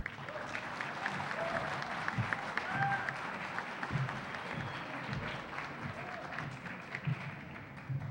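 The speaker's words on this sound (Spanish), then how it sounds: "Recibámoslo con un fuerte aplauso, por favor." An auditorium audience at a law faculty event applauds steadily to welcome a speaker, a sustained dense wash of clapping lasting the whole stretch with no talk over it.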